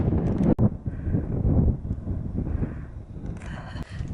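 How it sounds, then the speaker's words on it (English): Gusty wind buffets a microphone on a hillside stretch of the Pacific Crest Trail, a rough rumbling roar that surges and eases, with a faint hiss near the end. "It's starting to get windy."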